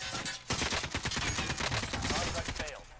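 Dense automatic gunfire, AK-47 style bursts with rapid overlapping shots, fills a Warzone match, loud and continuous with a sudden onset.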